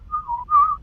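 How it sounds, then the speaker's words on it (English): A person whistles a short melodic phrase of two or three clear, held notes, alone and close with no talking. "you're good at whistling"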